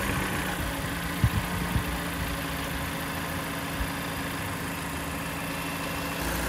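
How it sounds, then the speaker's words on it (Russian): A Mazda CX-5 engine running on Liqui Moly Molygen 5W-30 oil idles steadily with a low, even rumble, a few faint knocks rising briefly above it. "вроде мотор стал мягче работать"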